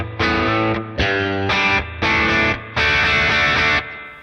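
Fender Strat Plus electric guitar on the fifth pickup position through heavy distortion, playing loud sustained chords in a rhythmic pattern of five blocks with short gaps, alone without talk.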